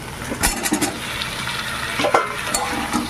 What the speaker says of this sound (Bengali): মশলাটা খুব ভালো করে কষানো হয়ে গেছে দেখুন তেল সুন্দরভাবে ছেড়ে দিয়েছে এবার আমি কলাগুলোকে ঢেলে দেব